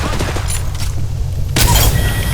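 Gunfire in the Apex Legends battle royale game, with a rapid burst of shots and then a louder, heavier volley near the end, sharp and close.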